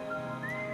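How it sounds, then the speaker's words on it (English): A person whistles a steady, sustained melody with a few pitch glides, heard clearly over a continuous background of music from a teaser track. "We've got a whistler over here"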